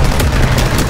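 Gunfire in the World War II shooter Call of Duty: WWII, a loud, dense burst of rapid shots and booms filling a short moment.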